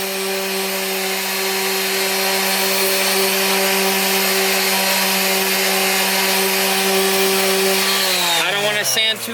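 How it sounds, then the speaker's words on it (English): A power sander runs steadily, lightly scuffing a rusted car body repair area down toward the underlying fiberglass. The whine holds close and continuous for most of the clip, then dips and shifts near the end as the tool winds down. "I don't want to sand too much so that I get into the actual fiberglass itself"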